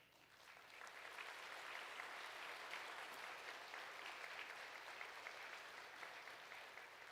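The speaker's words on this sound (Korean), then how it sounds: "우리 한번 인사하실 때 여러분 따뜻한 박수로 환영해 주시기 바랍니다." A church congregation applauds to welcome guests at a Sunday service, steady dense clapping that swells in after a second and holds evenly, heard from a slight distance in a large room.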